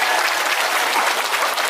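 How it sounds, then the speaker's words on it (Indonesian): An audience at an Indonesian gathering gives a short, dense burst of applause, loud and even with no pauses. "Tepuk tangan untuk Mas Ipang Wahid."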